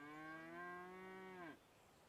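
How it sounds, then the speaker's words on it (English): A single long, steady cow moo from the Train Sim World 6 East Coastway route at night, loud and close, holding its tone for about a second and a half before dropping off sharply into quiet background. "Cows."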